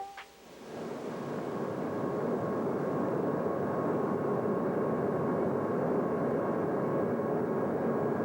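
Steady cabin drone inside an airplane in flight, a continuous low engine rumble and hiss that swells in after a brief quiet start and holds constant.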